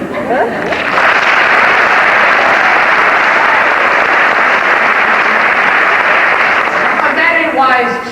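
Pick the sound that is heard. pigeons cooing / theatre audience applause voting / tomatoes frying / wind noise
theatre audience applause voting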